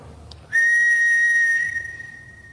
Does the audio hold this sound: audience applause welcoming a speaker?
no